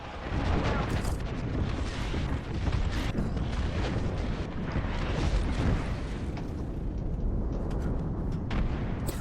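Airstrike explosions in a video game battle royale match, a dense continuous roar of overlapping booms and blasts rumbling for several seconds at steady loudness.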